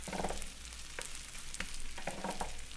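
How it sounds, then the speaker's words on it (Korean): Chicken neck meat sizzling on a grill, a soft steady crackle and hiss with scattered pops and light scraping or stirring, fairly quiet and close, with no talking. "맛있는 소리가 지글지글 배고파요"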